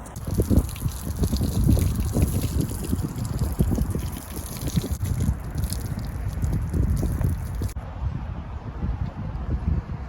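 Water splashing and trickling as horse boots are rinsed off outdoors, an uneven wet spatter with some wind buffeting, fading near the end.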